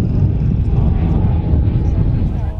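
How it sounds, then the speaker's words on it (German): A replica DFS Habicht, a 1930s aircraft design, flies at an airfield festival as a loud, steady low roar and rumble of flight noise that fills the scene without a break. "Das ist der DFS Habicht, ein Nachbau eines Flugzeugs aus den 30er Jahren"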